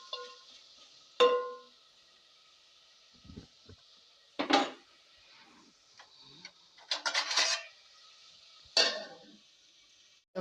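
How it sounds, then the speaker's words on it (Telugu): A metal lid set down on a cooking pot of idli sambar, giving a few sharp clinks and taps spread through a quiet kitchen, with soft clatter between them. "మూత అయితే పెట్టేసుకుందాం."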